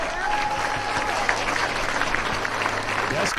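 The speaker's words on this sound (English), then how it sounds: "So a big round of applause for Colin McManaman" A crowd at a charity Gaelic football match between Mayo legends and an All Stars side applauds a player leaving the pitch, a steady, fairly distant clapping wash with a voice talking over it.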